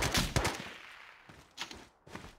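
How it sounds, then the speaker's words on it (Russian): In a shooter video game, a quick cluster of loud, close gunshots opens the stretch, followed by a few scattered, softer shots. "Стрелял он по кому-то."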